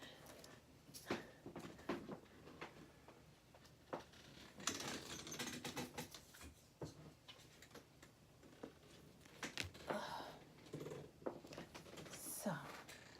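Playing cards are handled and shuffled close up, with quick irregular clicks, taps and riffling flutters, some bursts denser than others, and faint talk in the background.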